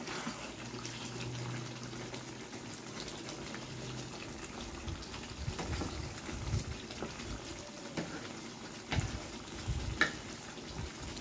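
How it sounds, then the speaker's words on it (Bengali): Black chicken pieces sizzling and frying in a pan as they are stirred, a steady soft crackle with occasional scraping clicks, fairly quiet and without talk. "মাংসটা খুলে দেখি, নেড়ে চেড়ে নিতে হবে।"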